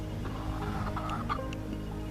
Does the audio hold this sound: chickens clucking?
yes